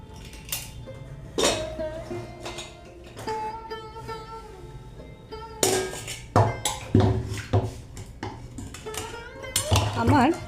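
Pressure cooker lid being opened in a home kitchen while cooking chicken curry, with loud metallic clanks and clinks of pots, lid and utensils in irregular bursts, someone speaking between the sounds.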